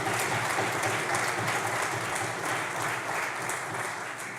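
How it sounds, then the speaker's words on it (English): Sustained audience applause at a parliamentary youth gathering, a full, even wash of many hands clapping that runs the whole time and fades slightly at the end. "Please join us in a round of applause."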